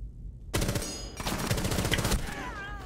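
After brief silence, loud rapid automatic gunfire bursts out in a PlayStation shooter, sustained rattling volleys close up, tailing off into a softer whine near the end.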